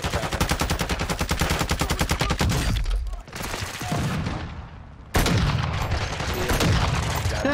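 Shotgun and automatic gunfire in Warzone 2.0 DMZ on Xbox Series X: a loud, rapid burst of shots for about three seconds, a brief lull, then another sustained heavy volley close by.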